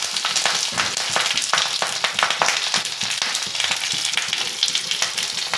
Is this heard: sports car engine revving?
no